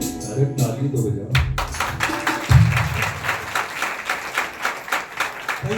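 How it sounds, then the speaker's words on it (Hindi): A church congregation claps in a steady, even rhythm right after a worship song, the claps close and regular under voices and lingering musical tones. "अरे ताली तो बजाओ।"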